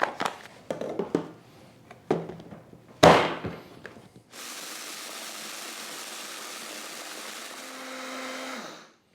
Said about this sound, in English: my Vitamix seems to do a much faster and more efficient job at grinding the beans